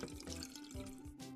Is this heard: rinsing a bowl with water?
yes